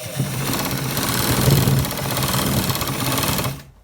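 A sewing machine runs steadily while stitching a designer shirt with buttons, its fast needle chatter close and continuous for a few seconds before stopping abruptly.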